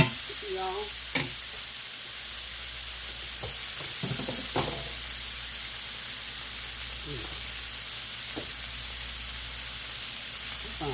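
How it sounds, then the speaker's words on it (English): Vegetables stir-frying over high heat give a loud, steady sizzle and hiss, with occasional scraping and clanks from the stirring utensil in the pan. "just continue to stir fry these veggies until they get good and done"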